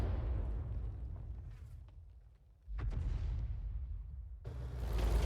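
A Hummel self-propelled artillery gun fires in a tank video game, heavy booming blasts with a sharp report near the middle and another near the end over a constant low rumble.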